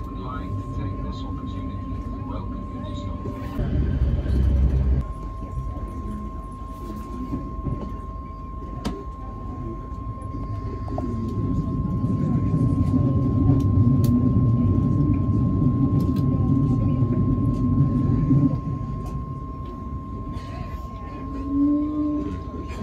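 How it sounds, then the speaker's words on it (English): Low rumble and clatter of a train fill an underground airport rail station leading into Stockholm City, steady and loud for the whole stretch while someone talks over it. "What might seem like a dark underground cavern is actually the train station from the airport to get into Stockholm City."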